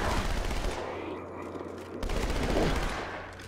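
Gunfire from Halo 2: Anniversary: a loud continuous stream of rapid shots that briefly thins, then resumes with another dense burst, mixed with game noise and a voice.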